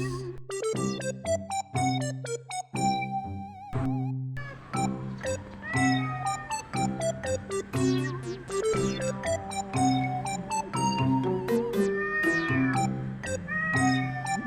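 Cats meow and yowl repeatedly in loud, drawn-out cries, overlapping one another close by with little pause.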